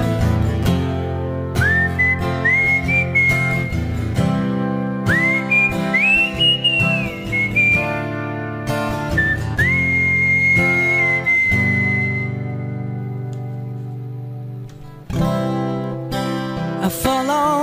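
A man whistles the melody of a song in a live acoustic setting, clear sustained pitched phrases rising and gliding over steady acoustic accompaniment, close and loud throughout.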